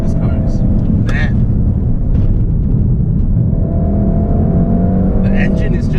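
Volkswagen Golf R with a turbocharged 2-liter four-wheel-drive engine pulling hard, a loud, steady rumbling drone heard from inside the car, with a voice talking over it at times.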